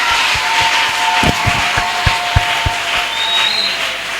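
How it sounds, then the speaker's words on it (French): A church congregation at a 2020 Christmas celebration claps and cheers, scattered sharp claps rising into a steady crowd roar of applause, moderately loud and diffuse. "Je demanderai d'acclamer très fort pour le Seigneur."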